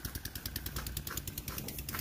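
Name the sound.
single diesel engine pulling two kaligay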